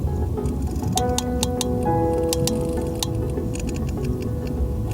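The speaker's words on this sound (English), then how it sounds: "Rhythmic sequences of clicks that sound almost like Morse code." Sperm whale coda clicks underwater, sharp rhythmic click bursts in short patterned groups over a dense, noisy ocean background with faint tonal whistles, no talk.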